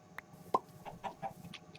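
A single video-game chicken on a Minecraft-style farm map gives a few soft, brief clucks in quick succession over quiet game ambience, with no talk.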